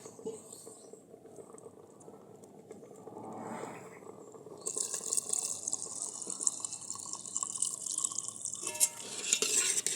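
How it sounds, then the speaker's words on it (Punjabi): Milk is poured into a pot of softened cooking rice for coconut kheer. A quiet simmer gives way to a loud, rushing liquid hiss halfway through that continues to the end. "ਲਓ ਹੁਣ ਆਪਣੇ ਚੌਲ ਪੋਲੇ ਹੋ ਗਏ ਤੇ ਆਪਾਂ ਹੁਣ ਦੁੱਧ ਪਾਵਾਂਗੇ"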